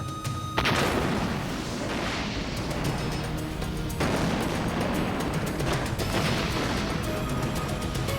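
A loud, sustained roar of explosive blasts and crashing debris fills the space, with rumbling bursts continuing throughout.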